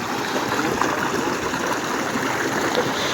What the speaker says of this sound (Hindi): तो दोस्तों आप यहाँ पे पानी को बगौर यहाँ पे देख सकते हैं, ठीक है, किस तरीके से हमारा पानी आ रहा है।